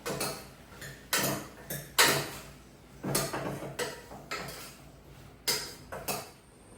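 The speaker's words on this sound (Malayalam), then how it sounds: "എല്ലാം നന്നായിട്ട് മിക്സ് ചെയ്ത് കൊടുക്കാം" Food stirred in a cooking pot on a home stove gives repeated close metallic scrapes and knocks from a spoon, in irregular bursts separated by short pauses.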